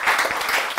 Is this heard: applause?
yes